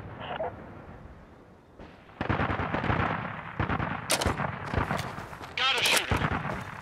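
Sniper rifle shots in the video game Caliber during a night PvPvE match at a hotel, sharp cracks arriving in irregular bursts over low background noise and game sounds, with voices talking.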